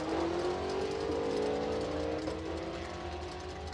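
A Camaro and a Mustang Mach 1 launch down the drag strip at Saskatchewan International Raceway; engine tones sweep upward as the cars accelerate, heard at a moderate distance and fairly quiet, with no talk.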